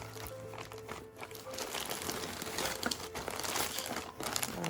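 Crinkling and rustling of a satin wig storage bag being emptied out close by, a steady soft crumpling texture with a few sharper handling bumps throughout.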